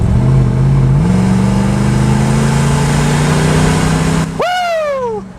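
A Lexus GX470 with remote exhaust cutouts open revs loudly and steadily, its deep drone climbing in pitch once early on, then the revs fall away sharply near the end.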